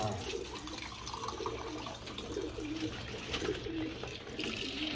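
Pigeons kept on a rooftop coo softly during a rainy, cold day, the low murmuring calls mixed with steady dripping and running water, a faint voice occasionally behind them.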